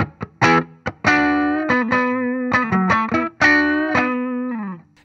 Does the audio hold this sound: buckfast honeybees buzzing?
no